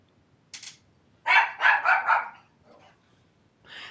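Dog barking in the video game Moonlighter: a short yip, then a loud run of four quick barks, a faint bark and another at the end, with quiet gaps between.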